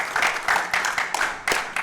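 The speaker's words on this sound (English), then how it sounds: "Everyone clap." Scattered hand claps from a small tournament audience at an onsite ALTTPR event, several people clapping unevenly in a short close burst.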